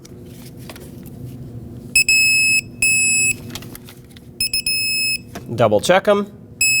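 An electronic torque wrench beeps while a bolt is torqued to 18 foot-pounds on a 2006-2015 Lexus IS250 fuel pump job, sounding as several loud steady electronic tones in a row, with someone speaking briefly near the end.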